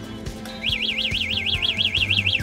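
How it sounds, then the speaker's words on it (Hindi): An anti-theft alarm on a Miracle 5 Futura electric scooter wails in a steady rising-and-falling electronic siren, loud and close, cycling about ten times over low background hum. "आगे बढ़ते हुए आपको एंटी थेफ्ट अलार्म,"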